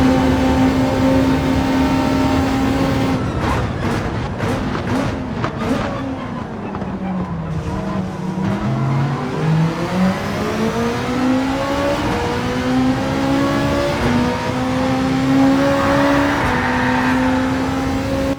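Race car engines roar in Gran Turismo 7 at the Deep Forest circuit, loud and continuous, with pitches climbing and dropping through gear changes as several cars run close together.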